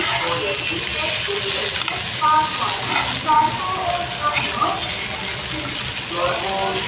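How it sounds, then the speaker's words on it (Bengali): Pointed gourd (potol) frying in a pan over low heat gives a steady hiss and sizzle throughout, with faint scattered pops and clinks and a voice speaking over it. "এভাবে আমি আরও দু মিনিট পটলগুলোকে ভেজে নেব"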